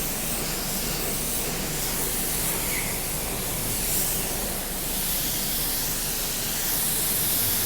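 A spray gun lays a coat of automotive paint onto car parts, producing a steady, close, continuous hiss that fills the whole stretch without a break.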